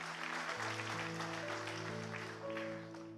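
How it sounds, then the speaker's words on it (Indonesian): A church congregation claps during an Indonesian worship service, a dense wash of applause over sustained keyboard chords that play steadily underneath, holding fairly even and loud before easing slightly at the end. "Berikan kemuliaan tepuk tangan."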